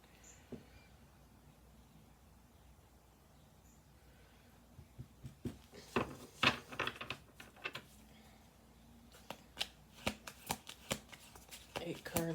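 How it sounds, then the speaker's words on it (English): Playing cards being shuffled and riffled close by, in bursts of crisp flutters and taps, with a person talking intermittently. "Eight cards on the table. I'm going to do two more shuffle throughs after this."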